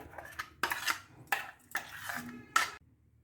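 Ground raw mango chutney being scraped and tipped into a bowl, several sharp clinks and scrapes of a spoon against metal and ceramic, close and fairly loud, spaced out with short pauses.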